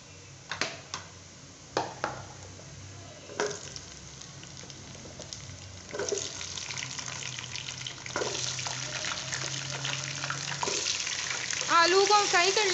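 Potato pieces fry in a pan with golden onions for a potato, carrot and pea sabzi. A hissing sizzle starts after a few clatters and grows louder and steadier over several seconds.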